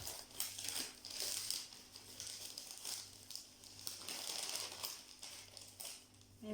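A stencil being pulled out of a crinkly plastic packet: continuous crackling and rustling of thin plastic in bursts for several seconds, fairly close, with no talking.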